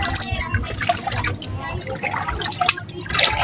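Floodwater from heavy monsoon rain flowing along a residential street, a steady broadband wash of running, splashing water heard up close and continuous, with voices talking over it now and then.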